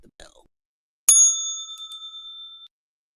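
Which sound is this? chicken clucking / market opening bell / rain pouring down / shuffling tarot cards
market opening bell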